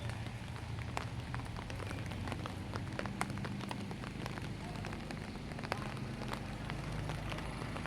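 Steady rain patters on a surface nearby, with scattered sharper drips over a constant wash of falling water.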